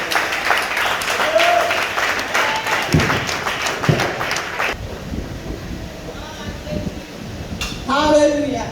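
A church congregation applauds in a loud wash of clapping during the first half. It thins out as voices speak over it, then swells again briefly at the end.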